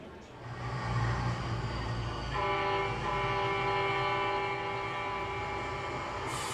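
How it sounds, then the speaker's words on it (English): Air horns blast at a minor league ballpark as a batter comes up, a sustained chord-like honking that steps up in pitch partway through, loud over crowd ambience. "When the K-Man comes up to bat, you will hear the horns"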